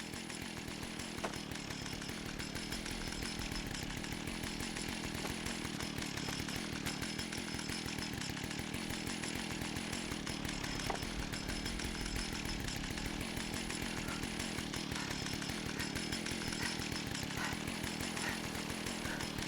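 A video game chainsaw engine runs steadily and loudly throughout, a continuous buzzing drone with rapid rhythmic chatter and no voices.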